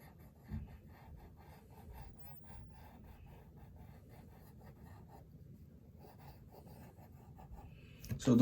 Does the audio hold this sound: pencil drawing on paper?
yes